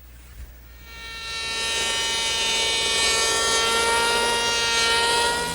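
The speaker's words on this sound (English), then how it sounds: "So to smooth that out, I'm going to use my handheld power plane." Handheld power plane smoothing wood for an armoire entertainment center: after a quiet start the motor spins up into a loud, steady whine with bright tonal overtones that holds to the end, no talk.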